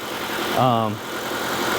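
The gasoline engine of a Kia Optima Hybrid idles steadily nearby as it runs to recharge a low hybrid battery, a constant mechanical drone with a brief voice-like rise partway through.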